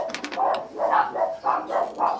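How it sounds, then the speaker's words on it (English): Dogs barking somewhere in a guitar workshop, a run of about six short, mid-pitched barks in quick rhythm, moderately close and heard alone. "the dogs are barking"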